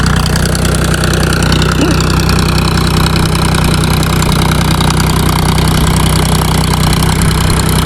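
A farm tractor engine runs steadily and loudly close by, a continuous heavy rumble with no breaks or speech.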